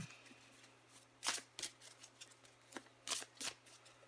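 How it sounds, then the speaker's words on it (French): Tarot cards shuffled and drawn by hand, quick papery riffles and soft slaps in short irregular bursts against a faint steady hum, close and quiet, with no voice. "Je vais encore tirer une carte pour vous les Sagittaires."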